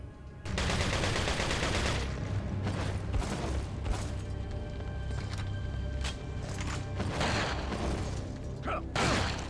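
Gunfire in the video game Resident Evil 4: bursts of shots and mechanical clatter, loud and repeated throughout, with no talk.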